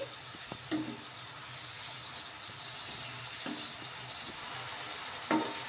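Vadas stirred in a pan over a low, steady sizzle, with a few soft scraping knocks of the utensil against the pan standing out now and then.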